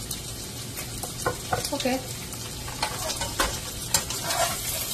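Pasta being stirred in a pan with Alfredo sauce and chicken, giving soft scraping and wet sizzling strokes in an irregular rhythm, with a brief spoken word over it.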